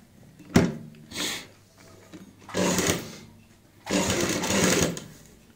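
A sewing machine stitches an invisible zip into a kameez, kurti or blouse, running in three close, steady bursts with short pauses between them.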